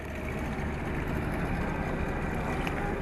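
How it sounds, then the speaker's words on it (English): An outboard engine on a powerboat drones steadily and loudly throughout, a continuous motor hum with wind and water noise and no speech. "your target is my engine on back of my powerboat"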